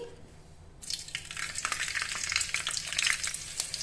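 Slit green chilies drop into hot oil in a pan for a crab pepper masala, setting off a sudden loud, crackling sizzle that continues with bursts of spitting and popping, close up and with no talking.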